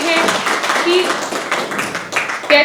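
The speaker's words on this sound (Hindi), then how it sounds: "तो जोरदार तालियों के साथ सर का स्वागत करते हैं हम मंच पर" Steady applause from a seated audience welcoming an advisor of the Bihar State Planning Board onto the stage at the Bihar Development Summit 2026, continuous clapping with a voice speaking over it throughout.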